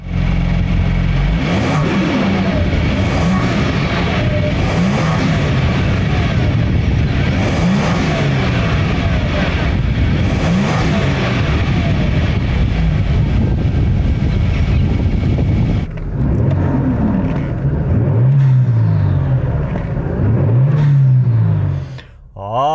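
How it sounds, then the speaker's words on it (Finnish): A 2018 Kia Stinger GT 3.3 V6 twin-turbo engine with aftermarket air filters revs repeatedly, its pitch climbing and falling in loud, close bursts, then drops back toward idle near the end. "tää lähti käyntiin, ei kuulostanut mitenkään ihmeelliseltä, mutta painetaan vähän kaasua, kuunnellaan miltä tää kuulostaa"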